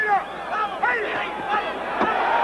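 A boxing arena crowd at a Terry Norris vs Jorge Fernando Castro fight roars and shouts in a loud, continuous swell, with a commentator talking excitedly over it.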